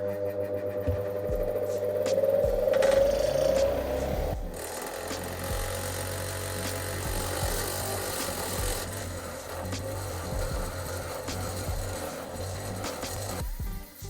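Power tool grinding gunk off a valve from a rebuilt VW 1200cc engine, a loud continuous buzzing, rasping whine close by, with no talking.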